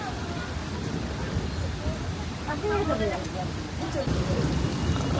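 Rain falls steadily on a street along Shantang Street in Suzhou, a soft continuous patter swelling slightly near the end, with faint background voices mixed in.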